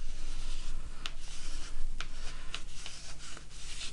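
Paper being creased and folded for an origami crane, steady soft rubbing and rustling with a few sharper crisp creases, close up and without speech.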